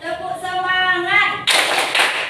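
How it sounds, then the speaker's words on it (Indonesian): Group of students doing a rhythmic cheer clap, a chanted voice first then a sudden burst of loud, sharp clapping from the whole room. "Tepuk semangat."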